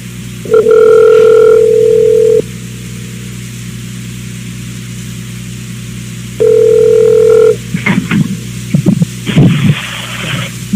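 A telephone dial tone sounds after a caller's line drops on a live radio broadcast: two steady buzzing tones, each lasting a second or two, separated by a gap, then clicks and handling noises.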